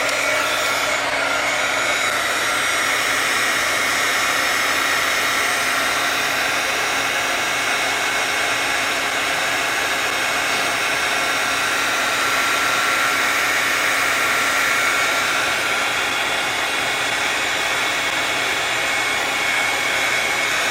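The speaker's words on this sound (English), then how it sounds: "now turn my heat gun on. It's going to be a little noisy" A heat gun blows steadily and loudly for about twenty seconds while melting embossing powder on a journal page, a constant roaring whoosh with no pauses and no talking.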